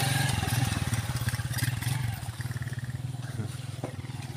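A motorbike engine putters with a steady pulsing rumble as it rides down a rocky road near a chicken farm in the Philippines, with rattles and clatter from the rough surface, fairly close.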